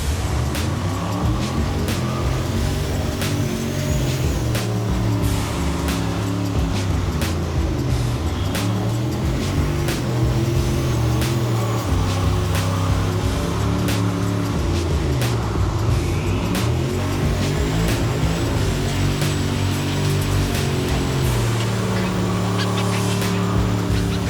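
A turbocharged 1000 hp Chevrolet Trailblazer SS engine drives under load: a loud, continuous low rumble with shifting pitch throughout, close and steady, with no speech.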